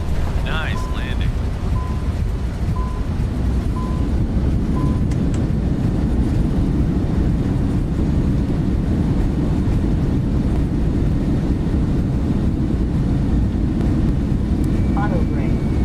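Airlink E190 airliner rolling out after touchdown in Microsoft Flight Simulator, a steady loud broadband engine and runway rumble that never lets up, with brief cockpit tones and chimes near the start and a voice talking over it.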